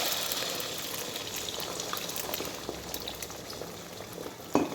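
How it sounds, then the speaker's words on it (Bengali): Eggs fry with green chilli and onion in a home kitchen, giving a soft, steady sizzle and bubbling with a faint clink near the end. "আজকে এই যে একটু ডিম ভাজা করব দুপুরে"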